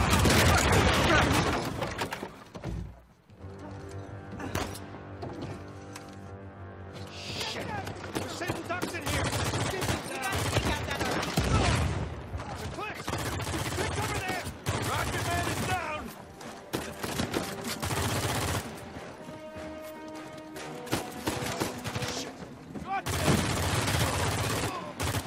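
Bursts of gunfire in the Uncharted 4 video game, rapid automatic volleys and single shots recurring over about twenty-five seconds, fairly loud, with some voices and effects in between.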